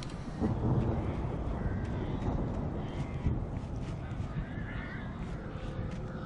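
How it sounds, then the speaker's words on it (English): Crows caw intermittently over a dense, noisy background rumble in the video game Alan Wake Remastered, with a few harsh calls standing out near the middle. "Or is that just crows?"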